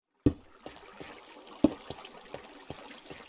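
Water placed and flowing in Minecraft with the Create mod, heard as a sharp splash followed by a string of light, irregular splashes and trickles against near silence.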